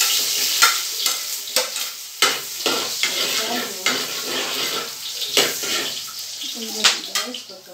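Garlic and spices sizzle in hot oil for paklay, with a steady fry broken by repeated scraping stir strokes of a utensil across the pan, close and fairly loud.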